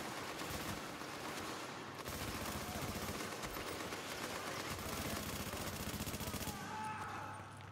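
Sustained light machine gun fire in The Division video game, dense continuous rattling bursts with heavy gunfire filling the mix almost throughout, easing slightly near the end.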